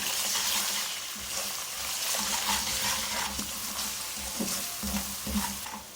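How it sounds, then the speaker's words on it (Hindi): Turmeric, crushed red chilli and ground coriander fry in a pan for a carrot and fenugreek sabzi, giving a dense, steady sizzle with rhythmic scraping of a spoon stirring throughout. "दो मिनट मैंने मसाले की भुनाई कर ली है।"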